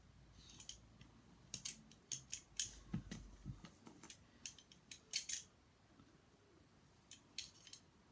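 Quiet snips and crisp clicks come as small parts are cut off a Ugears wooden racing car model kit, in irregular bursts of sharp taps close to the microphone in a still room.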